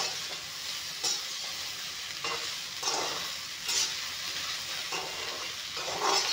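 Okra frying with turmeric in hot oil gives a steady sizzle, with regular scraping stirs of a spatula in the pan.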